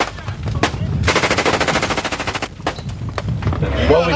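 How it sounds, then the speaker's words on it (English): Automatic gunfire in a firefight in Iraq, April 2003: a sustained machine-gun burst of rapid, evenly spaced loud shots, with scattered single reports before and after, close and dominating. "we've been receiving enemy fire"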